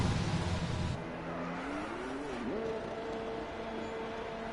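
Race cars at Barcelona in a racing video game roar past, a loud engine burst giving way to a steadier whine that rises and bends in pitch as a car accelerates and shifts, fairly quiet overall.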